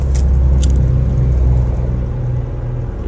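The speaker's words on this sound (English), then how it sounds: "We're gonna get out so we can hear the exhaust real quick." A car's exhaust idles with a steady, deep, low-pitched rumble heard close up, fairly loud and continuous with no talking.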